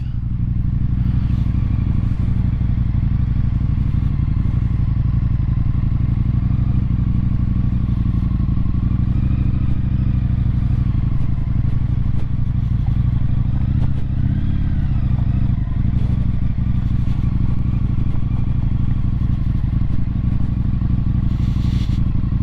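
An Indian FTR 1200 motorcycle engine idles with a steady low rumble throughout, close by, with occasional faint clatter and small rattles, while parking.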